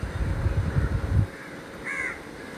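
Crows caw near a spot where food is laid out for peacocks and crows, a burst of loud calls in the first half, then quieter ambience with a short harsh call later.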